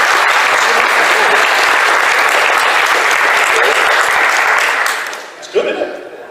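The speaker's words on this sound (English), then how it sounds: "A round of applause for this, ladies and gentlemen." An audience gives a sustained round of applause for concept art from a DVD and Blu-ray release, dense steady clapping that carries for about five seconds, then fades as a brief voice breaks in.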